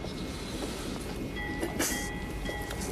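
A train rolls along the rails as a steady, close rumble fills the background, with a few brief metallic squeals and a short hiss partway through.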